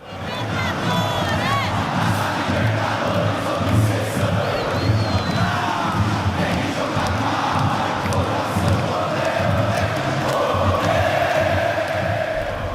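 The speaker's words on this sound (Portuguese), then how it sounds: "Como a torcida canta também, né?" Football supporters of Palmeiras fill a stadium with dense crowd chanting and singing, a loud, continuous roar of many voices with shouts rising out of the mass, steady throughout.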